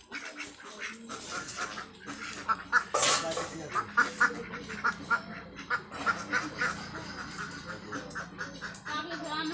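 Village ducks after feeding, quacking in a run of short, nasal calls that come repeatedly and close by, with some other animal noise mixed in.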